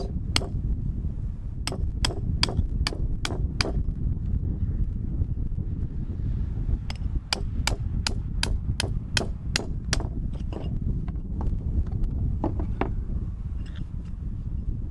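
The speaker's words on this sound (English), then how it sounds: "I'm going to take my punch and my hammer and try to drive out the old pieces." Sharp metallic hammer strikes on a punch ring out in quick bursts of several blows, separated by pauses, driving the old handle out of a sledgehammer head, over steady outdoor wind noise.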